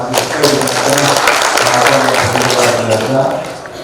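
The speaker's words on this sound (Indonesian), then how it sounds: "Kita berikan tepuk tangan." Applause breaks out at an election supervisory coordination meeting and launch event, a loud, steady wash of clapping mixed with talk and voices throughout.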